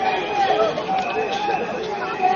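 Supporters linger at a nighttime political rally outside a stadium, their chatter forming a steady babble of many overlapping voices, moderately close, with some nearer voices rising over the hubbub.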